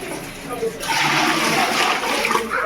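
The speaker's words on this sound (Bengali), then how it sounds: "আর এই জন্য ফিল্টারটা আমি ভরে দিই" Water pours into a kitchen water filter with a steady, close splashing rush that starts about a second in, while a voice talks over it.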